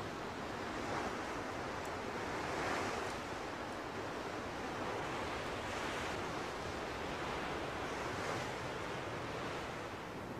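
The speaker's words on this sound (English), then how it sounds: "Because there's a strong wind blowing" Strong wind blows across a sea cliff in a broad, continuous roar with gusty swells, mixing with the wash of surf below, loud and steady throughout with no voices.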